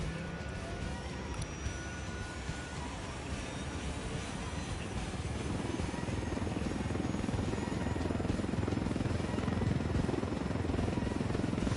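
Helicopter in a PS4 video game, a continuous droning rotor and engine hum that swells slightly louder in the second half, steady and unbroken with no speech.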